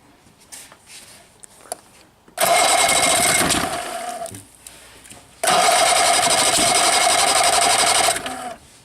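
A rebuilt 1964 Evinrude 40hp outboard motor fires up twice, each time roaring loudly and steadily for about three seconds before cutting out, with quiet gaps and faint handling noises between runs.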